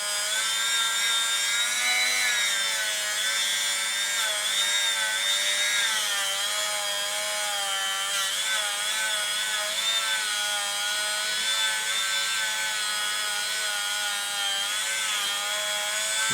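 A power polisher works deeper scratches out of a motorcycle exhaust with a steady, loud whine and wavering tones that shift as the pressure changes. It runs continuously and alone for the whole stretch.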